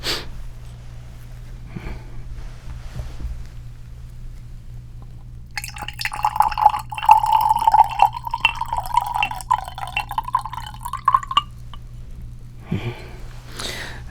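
Liquid acid is poured from a container into a glass in a quiet setting, a steady trickling stream lasting several seconds, close and moderately soft, with faint handling sounds before and after.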